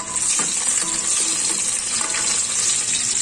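Garlic frying in hot cooking oil gives a steady, bright sizzle that hisses continuously from close by, with faint clinks of stirring underneath and no talking.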